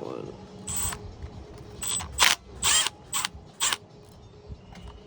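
Allen key turning and loosening bolts on a cheap generator, a run of short close metallic ratcheting clicks and scrapes in separate bursts, with quiet room noise between.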